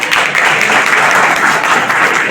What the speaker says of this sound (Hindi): इन लोगों के लिए ताली बजाइए तुरंत पहले सब लोग।